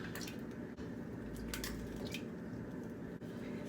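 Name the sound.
dumping an egg into milk for mac and cheese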